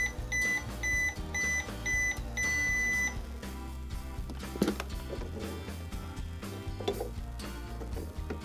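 Household microwave oven beeping in a short series of evenly spaced electronic tones, followed by rustling and handling noises with toy packaging, no talking.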